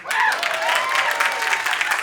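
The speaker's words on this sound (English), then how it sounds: "Round of applause if you hate yourself." Applause from a comedy special audience, a dense wash of clapping with a few cheers and whoops layered over it, loud and sustained.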